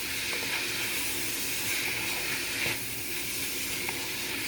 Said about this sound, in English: Now you're gonna add your shrimp. We're gonna stir fry.